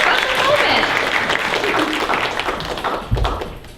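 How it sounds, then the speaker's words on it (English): Audience applause at the Miss Ohio Supranational pageant, a loud, dense burst of clapping that gradually fades, with a single thump near the end. "Applause."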